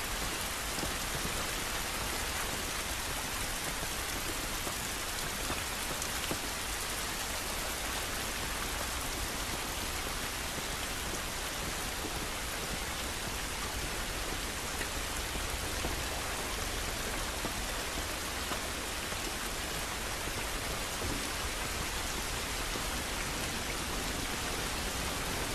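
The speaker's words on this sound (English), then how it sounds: "This rain ain't gonna do us any good." Steady rain falls outdoors in The Last of Us Remastered on PS4 Pro, a dense, even hiss of drops on surfaces that runs unbroken and fairly loud for the whole stretch, with no voices.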